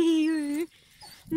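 A stuck puppy lets out one long, close, high-pitched whimpering whine that trails off. A short quiet gap follows, then a faint start of another sound.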